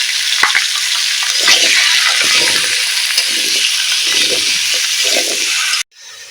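Diced potatoes sizzle loudly in hot oil in a pan while being stirred for Bengali aloo dum, a steady close frying hiss broken by soft scraping strokes, cutting off abruptly near the end.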